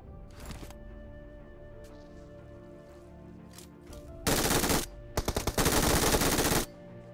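An MG3 machine gun fires in the mobile game BGMI. Two loud, dense bursts of rapid automatic fire come close together, the second with a brief stutter, after quieter scattered game sounds.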